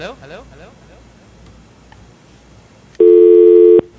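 A steady electronic telephone tone sounds loud and alone for nearly a second after a caller drops off a radio call-in line, following faint murmuring background noise.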